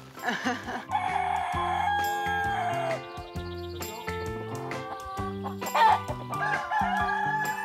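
Roosters crow at a farm raising cocks, their calls rising over clucking fowl and a busy, close mix of bird sounds, with a brief speaking voice mixed in.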